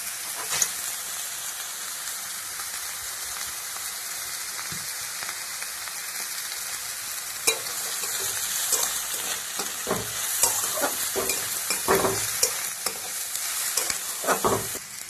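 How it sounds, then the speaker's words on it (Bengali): Garlic, peanuts, cashews, dried chili, coriander, cumin, fennel and other spices dry-roasting in a pan, a steady hissing crackle with repeated scraping stirs that grow busier in the second half. "মশলাটা আমি ঠিক এরকম করে ভেজে নিয়েছি"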